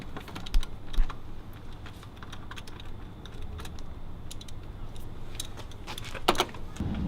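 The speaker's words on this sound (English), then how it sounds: "Loosening the top C-clamp." Loosening a hose C-clamp at the top of the intercooler on a 2012 Subaru WRX, heard as a series of faint, sharp metallic clicks and ticks against a quiet background, with a few louder knocks.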